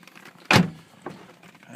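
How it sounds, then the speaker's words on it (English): A single solid thud as a car door shuts from inside the vehicle, followed by a softer rattle or clunk a moment later, close and fairly loud. "close the door, that's important."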